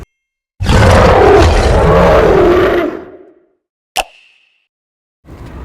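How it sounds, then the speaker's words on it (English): A lion gives one long, loud roar lasting a few seconds, then fades out, followed by a short click and a softer rumble at the end, with nothing else heard. "I am lion."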